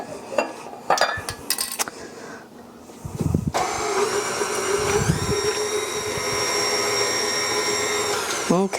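An electric hand mixer whirs steadily through cookie batter containing eggs and vanilla, a continuous close motor drone with a faint tonal whine, beginning after a few seconds of kitchen clatter and brief talk.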